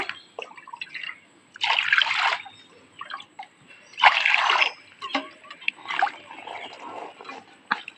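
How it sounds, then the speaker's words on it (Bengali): Cut taro flowers are washed in water, with bursts of splashing and trickling that come and go over several seconds. The water sounds are fairly close and moderately quiet, with small drips between the bursts. "সমস্ত কচুর ফুলগুলো কাটা হয়ে গেছে এবার জলে ধুয়ে নেব"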